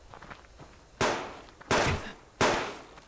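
Three sharp, loud lever-action rifle gunshots in the video game Subsistence ring out about a second apart, each with a quick decaying tail, over a quiet background.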